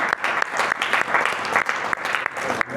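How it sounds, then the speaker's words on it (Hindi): Loud applause at a Hari Nam chanting gathering, many hands clapping close and strong in a dense burst for under three seconds, with a few sharper individual claps standing out. "जोर से तालियां बजाइए सब।"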